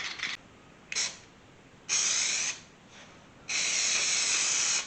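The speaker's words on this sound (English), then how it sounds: "I bought some spray adhesive" Repeated hissing bursts from a can of spray adhesive coating wood, short sprays followed by two longer steady ones, close up with quiet gaps between.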